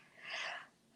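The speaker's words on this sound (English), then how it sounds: "Hang on, I've got a sneeze coming." A single sneeze from a minister during a Sunday church service broadcast, a breathy burst lasting about half a second, fairly faint and alone with no talk over it.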